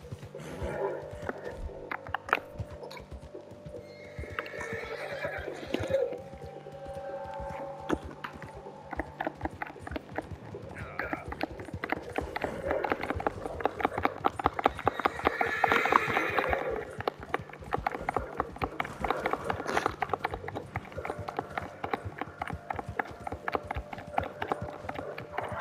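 Horse in the Red Dead video game, heard as a rapid clip-clop of galloping hooves with occasional neighs and whinnies, moderately loud and building toward the middle, with intermittent talk.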